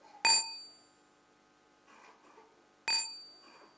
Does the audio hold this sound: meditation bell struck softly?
yes